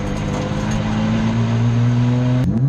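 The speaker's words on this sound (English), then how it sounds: "Race 3, revving it up." A Nissan 180SX race car engine revs hard at a Victorian Sports Sedan Championship race, making a loud, steady, close drone that climbs sharply in pitch near the end.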